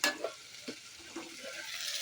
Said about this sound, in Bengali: তিন রকমের ভাজা হচ্ছে আলু ভাজা কুমড়ো ভাজা